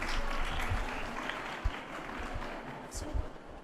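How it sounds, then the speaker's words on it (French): Audience applause welcomes a guest speaker at a French personal-development training talk, a steady wash of clapping with a few sharper claps, fairly faint and diffuse across the room. "on l'applaudit."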